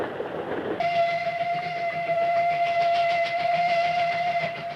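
A running train, with a steady tonal whistle-like ring and rumbling rail noise holding loud and continuous for several seconds after a sudden onset, no voices present.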